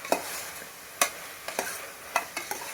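Tomatoes with salt, turmeric, chilli, garam masala and biryani masala are stirred in a pan for egg pulao, with sharp spoon scrapes and knocks coming in quick clusters over a soft, low sizzle.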